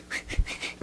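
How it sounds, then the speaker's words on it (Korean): A person whistles faintly in a few short, breathy, airy notes, thin and uneven as though the whistle will not quite come out. "휘파람이 좀 안 나오는데"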